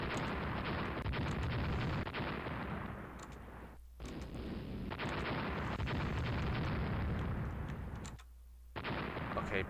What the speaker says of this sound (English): You guys are gonna be ordered to open fire now. Against that battleship division.